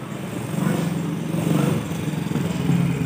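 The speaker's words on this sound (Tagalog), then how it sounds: "Sakay na kami ng ano? Ng motor niya." A motorcycle carries two riders home, its engine a steady, fairly close drone with slight surges throughout and no talking.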